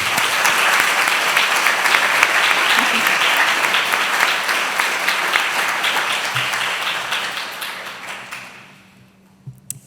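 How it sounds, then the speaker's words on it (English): Audience applause at a school Year 13 graduation ceremony held at a golf club, a steady close burst of clapping that holds for several seconds and then dies away to a few last claps. "please join me in giving a big round of applause"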